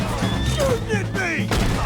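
Gunfire from a shootout in the video game Red Dead Redemption 2: several sharp shots and thuds in quick succession, close and loud, mixed with game sound effects.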